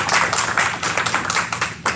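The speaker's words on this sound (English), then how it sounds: "please give a little round of applause to Mr. Yvonne Aguayo." A small audience at a city council and arts commission meeting applauds a guest classical guitarist with a short burst of dense clapping that stays close and fairly loud throughout.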